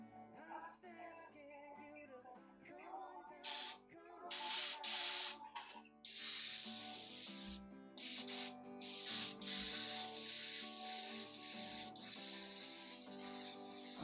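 An airbrush mists paint in several soft bursts of hiss, short at first and then longer, fairly quiet and close, with no one talking.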